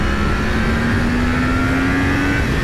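A 2020 Yamaha MT-10 super naked motorcycle holds high revs at motorway speed, a steady rising engine whine over heavy wind and road roar, loud and continuous.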